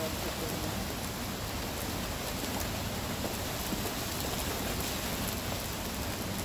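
Steady rain falls during a windy morning at a vegetable garden, a dense, even hiss of drops on surfaces that continues without a break at moderate level.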